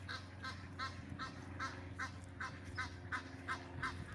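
Birds being fed honk over and over in a quick, regular series of nasal calls, goose-like and moderately faint against a low background hum.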